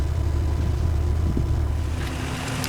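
A Jeep XJ engine idles steadily while filling an onboard air tank, a loud, continuous low rumble with a faint whirring layer and no pauses.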